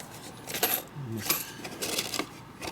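Metal flat washers rattle and clink while being sorted by hand in a workshop during a 1972 Harley-Davidson XL Sportster ironhead engine rebuild, with several sharp close jingles and small metallic taps over a faint background.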